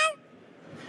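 A voice imitates a turkey gobbling with one short, loud honking call at the start, then near silence.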